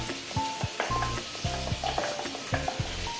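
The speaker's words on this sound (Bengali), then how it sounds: "মাছের মাথাটা মাছ ভাজার তেলে দিয়ে দিচ্ছি শুকনো লঙ্কা ফোড়ন, কালো জিরে ফোড়ন।" A bhetki fish head sizzles in hot frying oil with dried red chillies and nigella seeds, a steady crackling fry broken by repeated stirring strokes, with faint tonal sounds in the background.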